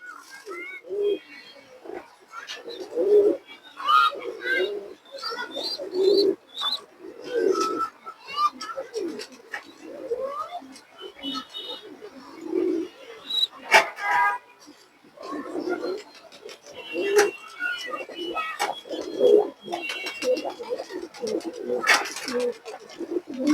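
Pigeons, including a red-eyed male racing-line bird, coo repeatedly in low throbbing bursts throughout, fairly close, with occasional voices and scattered clatter among them.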